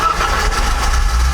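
A BMW E30's engine, just started after a fuel filter and hose change, runs loud and close with a steady low rumbling idle and a slight uneven throb, no voices.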